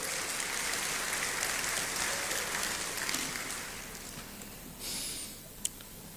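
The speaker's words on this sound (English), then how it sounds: "Shall we do a big round of applause?" An audience at a Ghana citizenship ceremony claps, a broad rain-like patter of many hands that gradually thins and fades, ending with a few isolated claps and a sharp knock.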